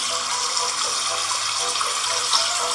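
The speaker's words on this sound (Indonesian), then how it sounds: "Kita matikan keran." A tap runs in a hand-washing mobile game on a Samsung Galaxy A01 phone, giving a steady, loud, continuous gush of water from start to finish with no talk over it.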